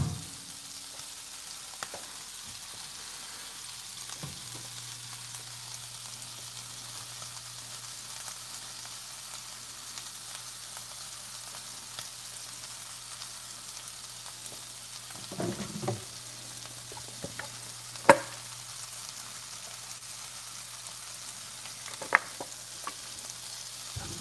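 Onions fry in a cast iron pan with a steady, quiet sizzle that lasts throughout. A low hum runs underneath, and a few clicks and knocks come through now and then.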